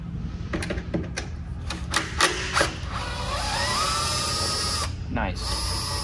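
Small screwdriver clicks and metallic ratcheting as a little capacitor is unscrewed from a Lycoming aircraft alternator, close and intermittent, with a steady hum and someone talking over parts of it.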